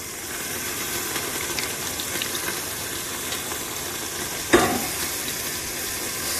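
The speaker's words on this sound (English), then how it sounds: "I'm going to go in with my crushed tomatoes." Crushed tomatoes go into a pan of sizzling butter, vodka and pancetta, with a steady hiss and crackle of frying throughout and one sharp splash-like burst partway through.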